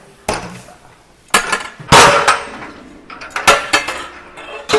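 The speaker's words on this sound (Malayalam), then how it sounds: "നമ്മൾ അരി ഇടുമ്പോൾ ചട്ടകം ഇങ്ങനെ ഒന്ന് വെച്ച് കൊടുത്തു കഴിയുമ്പോൾ പതിയെ താഴത്തേക്ക് വീഴുള്ളൂ" Rice for a 50 kg batch of ghee rice is poured onto a ladle held over a huge pot, heard as repeated loud metallic clanks and rattling pours, close and clear.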